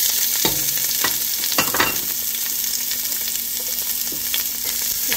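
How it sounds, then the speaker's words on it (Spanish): Garlic and onion frying in a pan make a strong, continuous sizzle up close, with several scraping stirs of a utensil across the pan near the start and no voices. "Voy a agregar el ajo y la cebolla primero."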